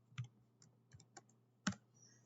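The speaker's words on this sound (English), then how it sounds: "I'm typing it." Typing on a computer keyboard while coding, a few sparse, close key clicks in quick bursts against a quiet background.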